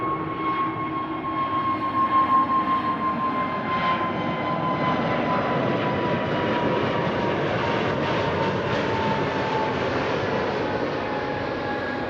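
A Singapore Airlines Airbus A350 passes overhead near Amsterdam Schiphol, a sustained jet roar swelling early then holding steady, with a clear engine whine that slowly falls in pitch as it moves away, no voices.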